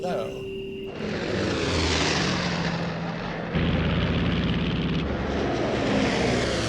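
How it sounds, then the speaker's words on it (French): Propeller engines of WWII bombers roaring during takeoff from England at dawn on D-Day, a loud continuous drone that swells and steps up in intensity partway through, with a voice talking over it. "à l'aube du 6 juin, plus de 600 bombardiers décollent d'Angleterre"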